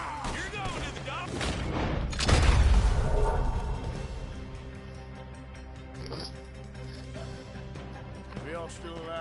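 A Red Dead Redemption 2 shootout: a burst of loud gunfire and booms peaks early, then fades to scattered shots as characters shout over the action.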